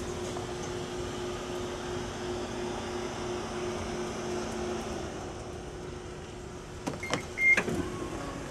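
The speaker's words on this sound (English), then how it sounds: "Power liftgate." The power liftgate on a 2016 Subaru Forester 2.0XT Touring runs with a faint, steady motor hum, then ends in a few soft mechanical clunks as it latches.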